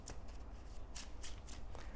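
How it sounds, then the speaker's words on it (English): Cards from a Marvel Champions deck are shuffled in quick riffling bursts, a few crisp flurries close by with soft gaps between. "we're gonna shuffle our deck and draw 6 cards"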